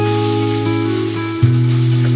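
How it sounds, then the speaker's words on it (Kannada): Ground masala frying with ivy gourd in a pan for a wedding-style thondekayi palya, a steady close sizzle with strong tonal hum and a brief clatter as the pan is stirred partway through. "ಈಗ ಇದಕ್ಕೆ ರುಬ್ಬಿರುವ ಮಸಾಲೆನ ಹಾಕಿ ಸ್ವಲ್ಪ ಹೊತ್ತು ಫ್ರೈ ಮಾಡ್ಕೋತಾ ಇದ್ದೀನಿ."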